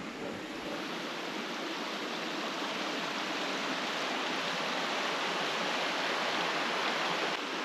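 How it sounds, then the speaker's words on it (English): Water flowing steadily in a backcountry brook in Newfoundland, a continuous broadband rushing wash heard up close without pause. "The brook from my previous video, same spot."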